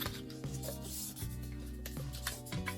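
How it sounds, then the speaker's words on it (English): Card stock being folded along a score line and burnished flat for a 3D purse card, giving steady close rubbing and rasping strokes with a few sharper scrapes, with no talking. "Now let's fold this one too on the score line"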